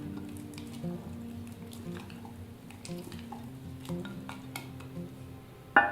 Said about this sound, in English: let's just go ahead and stir up the starter a little bit